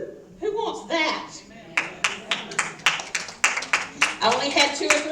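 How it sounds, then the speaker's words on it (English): A few people in a church congregation clapping in a sparse, uneven rhythm of about a dozen claps, close and distinct, with a voice heard briefly at the start. "I only had 2 or 3 people clapping."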